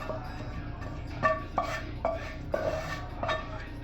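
A cooked steak is lifted from a pan onto a cutting board, giving a few sharp, close metallic clinks and knocks of utensil against pan spaced over a quiet background.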